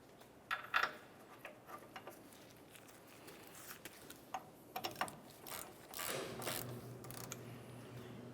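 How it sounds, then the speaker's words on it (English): A brake caliper bolt being worked loose on a 1994-2002 Dodge Ram 2500, with quick ratcheting ticks and mechanical clicks from a hand tool, close but fairly quiet, followed by a denser scraping rattle near the end. "We'll start by removing the first bolt, give it a quick inspection, and then start it in a couple threads."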